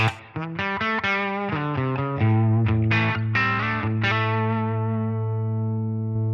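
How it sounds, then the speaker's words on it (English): A clean-toned electric guitar through a Line 6 Helix Aristocrat amp and cab model with no effects plays a short phrase of picked notes and chords, ending on a long sustained note that rings out alone. "This is what it sounds like with just the amp and cab."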